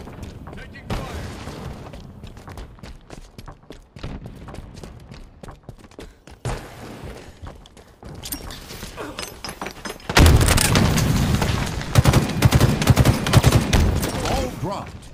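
Video game gunfire rattles through a Halo Infinite oddball match, bursts of automatic shots and booms that grow denser and louder in the second half, under intermittent in-game voice callouts.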